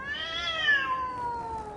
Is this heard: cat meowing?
yes